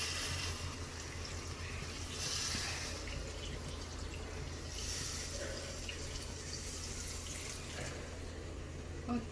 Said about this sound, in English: Kakak adding about 500 ml of water.